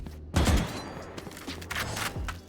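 Gunfire from the video game Valorant while pre-firing, with several sharp shots in quick bursts across a couple of seconds, close and punchy.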